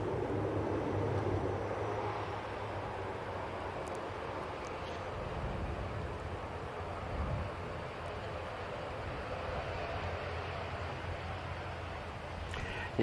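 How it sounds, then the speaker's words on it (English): A Turkish Airlines Airbus A321neo arriving at Manchester Airport gives a distant, steady engine roar that holds throughout at low level. "Next arrival, Turkish Airlines A321 Neo in from Istanbul."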